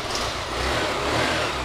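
A Yamaha 125cc motorcycle engine runs steadily at close range, a continuous broadband mechanical drone with a low rumble and no voice over it.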